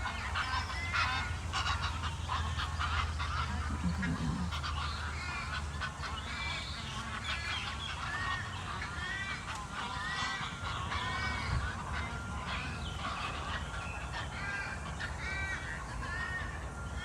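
A dense, steady chorus of birds calls at a lake, with honking and chattering overlapping continuously from start to finish, close and fairly loud.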